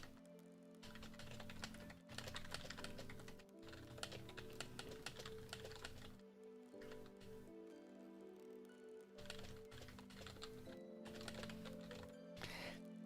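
Steady keystrokes on a computer keyboard, a continuous quiet run of rapid clicks with a few brief pauses, close but faint, with no talking.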